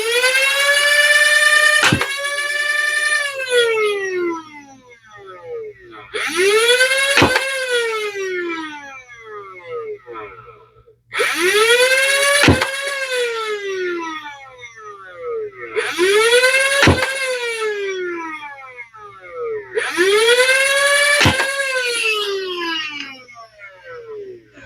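Maxim Pro flywheel foam dart blaster cycling five times: each time a loud whining motor spin-up, a sharp crack as a dart fires, then a falling whine as the flywheels wind down, with short quiet gaps between.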